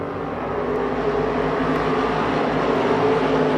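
IMCA stock cars racing at Dacotah Speedway under caution, a steady, continuous engine roar from the pack that holds a constant loud level throughout, with no speech.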